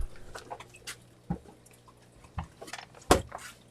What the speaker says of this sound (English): I hear something. I hear water.